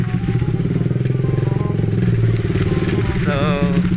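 Motorcycle being ridden, its engine putting out a steady throbbing, pulsing drone close up, with someone talking over it near the end.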